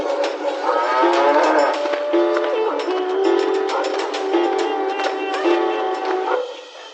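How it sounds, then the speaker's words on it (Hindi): A cow moos in long, drawn-out, pained lowing calls, loud and near, several overlapping bellows with a slightly tinny, narrow tone and no speech. "घर पहुंचकर गौरी दर्द में फिर से रंभाते हुए भगवान को याद करती है।"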